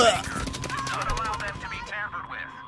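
Rapid machine-gun fire in the World War II shooter Battlefield 5 at the Iwo Jima outpost, a fast rattling burst of shots that tails off, with a player's voice talking over it.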